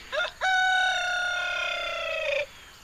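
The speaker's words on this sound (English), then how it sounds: "As I was riding by, he crowed at me." A rooster perched in a tree crows once, a long, loud, clear cock-a-doodle-doo with a short cluck-like note just before it, heard close by with no talking.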